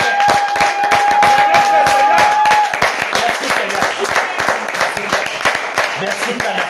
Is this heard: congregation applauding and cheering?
yes